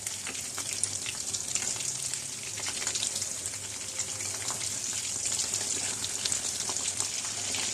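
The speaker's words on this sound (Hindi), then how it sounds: "इसको अब हम कवर कर देते हैं ताकि ये अच्छी तरह से फ्राई हो जाए" Chicken frying in a covered pan on low heat, giving a dense, even hiss and crackle of hot oil that stays steady and close throughout, with no voices.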